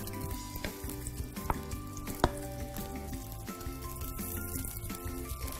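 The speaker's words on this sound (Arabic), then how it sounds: "الخطوه الثانيه راح انزل البصل مع الثوم." Onion and garlic frying in a pan, a soft continuous sizzle under a bed of background music, with a couple of light utensil knocks.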